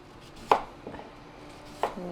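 A knife dices vegetables on a cutting board in a home kitchen, giving two sharp, close knocks about a second apart with faint softer taps between them, in an otherwise quiet room.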